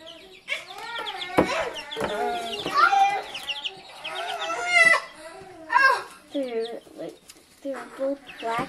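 Three-week-old black-and-white Exchequer Leghorn chicks cheep and peep in a busy, overlapping chorus of high chirps close by, with occasional voices talking over them.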